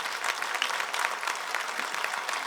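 A crowd at an outdoor demonstration applauds, crisp rapid clapping in a steady dense wash, fairly close, with no talk.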